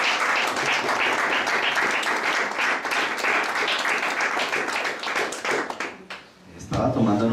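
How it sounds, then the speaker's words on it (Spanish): Congregation applauding during a church service, sustained dense clapping for about six seconds that fades, followed by a voice speaking. "Pues un aplauso al Señor."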